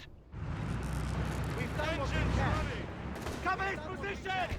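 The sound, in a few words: machine gun fire in video game Company of Heroes 3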